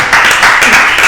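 A small live audience in a tavern claps together in one short, loud, continuous burst.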